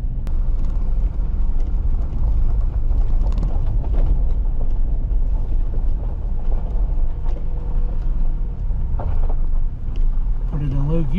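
A vehicle descends a steep dirt road through Weiser State Forest's Greenland tract, its engine a loud, steady, low rumble with mechanical rattles and bumps throughout, close and continuous, with no voices.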